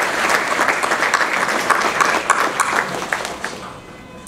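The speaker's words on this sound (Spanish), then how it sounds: "Recibimos con un aplauso a Raúl para su exposición." An audience at an accounting seminar applauds a presenter, a dense, steady clapping that fills the whole stretch and thins slightly toward the end, with no voices over it.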